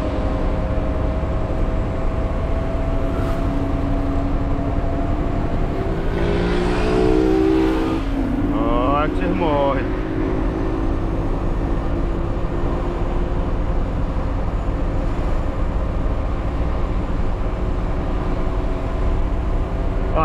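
A heavy truck's diesel engine drones steadily while driving on a highway, with a shift of gear partway through as the engine pitch rises and changes, loud and close from inside the cab, no talking.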